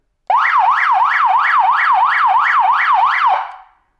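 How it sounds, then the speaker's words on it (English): An aftermarket siren horn fitted to a Land Rover Defender L663 wails in a fast, regular rising-and-falling sweep, loud and close, for about three seconds before stopping abruptly. "here we go. Siren."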